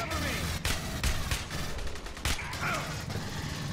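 Bursts of gunfire in Aliens: Colonial Marines crack out in irregular volleys over rumbling background game sound, with voices faintly mixed underneath.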